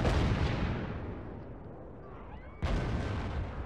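Cannon fire in a fantasy strategy video game, a heavy booming blast with a long rumbling decay, followed by a second sharp report near the end, loud and without speech.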